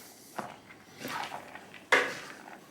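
Cheddar cheese being mixed through corned beef and rice in a pot makes a few close scraping and clinking utensil sounds, with one sharper knock near the end.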